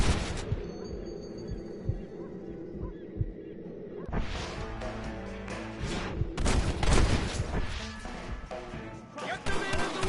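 Gunfire in the Western video game Red Dead Redemption, a shootout erupting after a quiet, tense stretch, with loud bursts and repeated shots crowding together over background game sound and voices.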